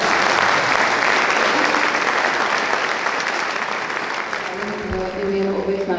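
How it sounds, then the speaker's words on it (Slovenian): Concert audience applauding at a New Year gala concert, sustained loud clapping from a large hall crowd that thins near the end as a voice and some music begin. "Vi pa seveda aplavz in potem ne domov."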